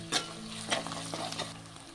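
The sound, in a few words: chopped onions and green chilies frying in a pan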